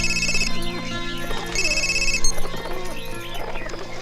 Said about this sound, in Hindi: राज फोन